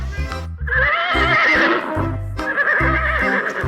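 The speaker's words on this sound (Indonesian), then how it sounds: "ada kuda warna coklat" Brown toy horse giving a loud electronic neigh and whinny with clip-clop hoofbeats, close and continuous for several seconds.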